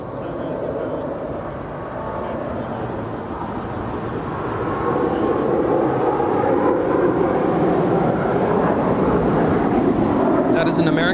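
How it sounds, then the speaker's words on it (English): An American Airlines Airbus A321 departing Los Angeles International Airport for Boston roars steadily, swelling louder midway and holding, with people chatting over the engine noise. "That is an American Airlines Airbus A321 departing to Boston."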